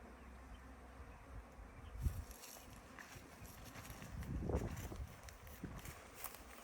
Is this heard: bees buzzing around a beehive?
yes